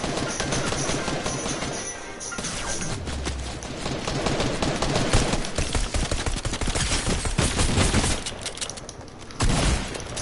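Rapid bursts of video game gunfire, dense and continuous with machine-gun rattles and booms, loud throughout with a brief lull near the end.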